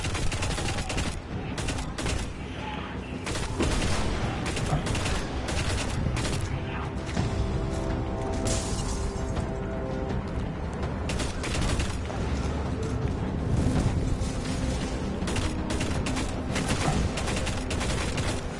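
Assault rifle fire rattles almost without pause in the shooter game Destiny: Rise of Iron, dense loud bursts layered with impacts and explosions throughout.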